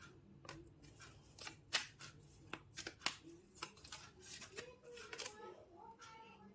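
Tarot cards shuffled and drawn from a deck in a love reading: a run of crisp papery snaps and flicks at close range, with low murmuring background sound between them.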